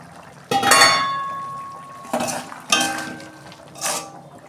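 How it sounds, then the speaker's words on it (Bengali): A metal lid clanks as it is lifted off a cooking pan of simmering potato and pointed gourd curry, with a sharp first clatter followed by several lighter metallic knocks and scrapes, close by. "ঢাকনা আমি খুলছি।"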